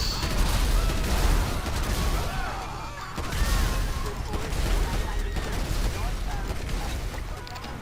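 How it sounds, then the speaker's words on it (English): Explosive-round gunfire in a video game, a dense, continuous barrage of loud blasts and crashes with brief dips, heard alone without talk. "Let's grab my gun here. Explosive bullets."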